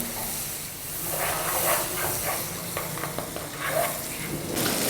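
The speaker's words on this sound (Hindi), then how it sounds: "इसको अच्छे से भूनने के बाद इसमें हम टमाटर शामिल कर देंगे" Chopped tomatoes dropped into frying masala for a dhaba-style egg curry give a steady, close hiss and sizzle that runs the whole time, with light stirring clatter and no talking.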